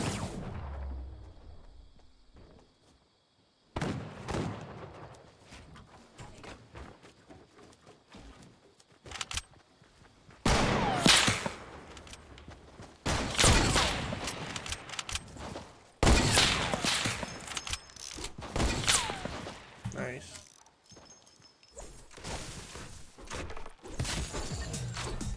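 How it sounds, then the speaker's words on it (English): Shotgun and pistol fire crack in bursts and scattered single shots during a Gunners Alive match, loud and close at times with quieter gaps between volleys. "Shotgun and pistol, bro."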